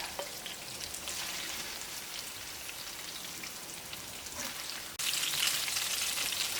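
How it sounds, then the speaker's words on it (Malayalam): Chicken pieces frying in hot oil in a pan, a steady close crackle and hiss that grows louder and brighter partway through, with no voices. "എനിക്ക് ഇപ്പോൾ നമ്മുടെ ചിക്കൻ ഒന്ന് ചെറുതായിട്ടൊന്ന് മുരിഞ്ഞിട്ടുണ്ട്"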